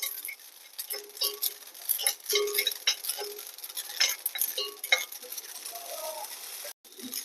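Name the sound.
garden cress seeds (ashali) being roasted and stirred in a pan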